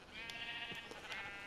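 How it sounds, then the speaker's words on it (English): Sheep bleating in a blocky sandbox video game, several short bleats at a steady moderate level against a constant background hum, with no talk. "I'm going to throw some sheep"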